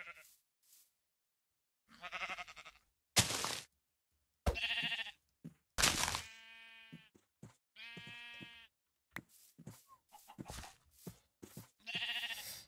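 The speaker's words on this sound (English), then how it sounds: "Okay, where are you, sheep?" Several Minecraft sheep bleat in separate short, harmonic calls spread across the span with quiet gaps between, some close and loud, others softer.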